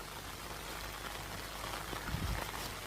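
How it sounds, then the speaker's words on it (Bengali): Rain falls at a hilltop location near Tanguar Haor, heard as a faint, even wash of hiss that stays steady throughout, with no voices. "তার ভিতরে হচ্ছে আবার বৃষ্টি"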